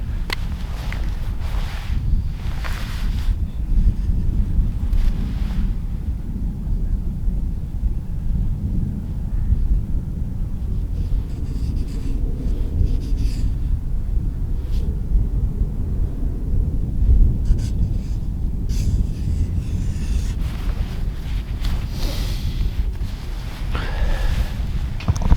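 Strong wind blows outdoors in the Peak District, a loud continuous low roar buffeting the microphone in gusts, with no talking.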